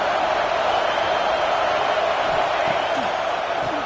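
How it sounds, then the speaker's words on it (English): A dense basketball arena crowd roars continuously at a college game against Auburn, a loud, steady wash of cheering with scattered whoops, while a commentator talks over it. "This crowd ready to make its presence known."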